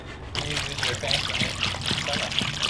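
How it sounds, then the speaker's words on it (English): Water trickles and splashes steadily as it drains out of a custom-built fuel tank for a mid-engine Eclipse, a close, continuous pour with small gurgles and no talk. "now we gotta get all the water out of it"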